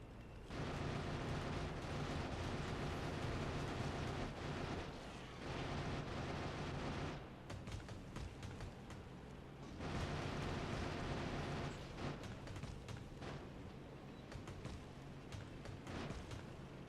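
Machine gun fire aimed at enemy bases in Factorio Space Age, heard as loud, dense rapid fire mixed with explosive bursts. Long sustained volleys alternate with choppier, sputtering stretches.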